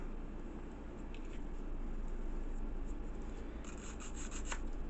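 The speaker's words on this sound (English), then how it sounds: "When you do it with a nail file, you control exactly how much you come off." A nail file rasps steadily against the acrylic of a bottom denture, a continuous close scraping that keeps an even level from start to finish with no pauses.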